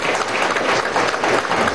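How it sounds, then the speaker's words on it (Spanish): An audience at a human rights press conference applauds in a short, loud, even burst of clapping lasting under two seconds. "Eso también merece un gran aplauso."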